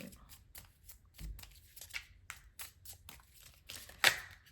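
Tarot cards are shuffled by hand up close, giving repeated quick riffling bursts with brief pauses between them and a sharper snap near the end, with a little talk mixed in.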